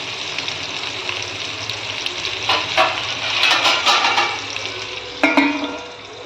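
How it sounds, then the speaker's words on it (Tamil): Onions sauté in oil under a covered pan for brinji rice, producing a steady close hiss and sizzle with occasional brief crackling bursts and clinks. "வெங்காயம் கொஞ்சம் வதங்கட்டும்."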